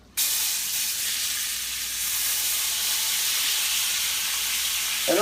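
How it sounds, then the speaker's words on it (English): Chicken of the woods mushrooms hit a hot pan and burst into a loud, steady sizzle that holds evenly for several seconds, with a brief stirring scrape near the end. "the reason that's sizzling a lot is because we got, it's hot, but also the water in the mushrooms"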